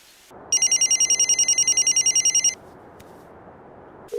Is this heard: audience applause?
no